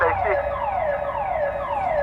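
An electronic building fire alarm sounds loud and near, a continuous wailing tone sweeping repeatedly downward in pitch, steady throughout with no talking.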